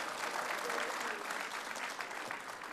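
Brief, dense applause from a lecture audience at a conference talk, a continuous wash of clapping heard at a moderate distance.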